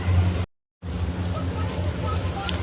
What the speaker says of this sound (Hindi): दोस्तों देखिए, बारिश हो रही है, अभी अचानक से फिर से बहुत तेज़ हो गया था